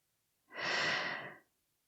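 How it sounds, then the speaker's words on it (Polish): A single long, slow breath lasting about a second, soft and close, taken during a guided relaxation exercise and followed by silence. "Oddycham, oddychamy bardzo dobrze."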